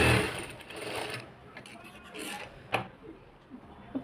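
Sewing machine running a straight number-5 stitch from the shoulder centre along blouse lining, a steady close whirring burst for about a second and a half that eases off, followed by a few sharp clicks and handling knocks.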